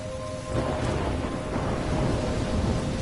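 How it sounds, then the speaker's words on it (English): Storm in Life is Strange: a dense, constant wash of rain with a low thunder rumble swelling after a moment and holding loud beneath a faint steady tone. "trapped in a storm?"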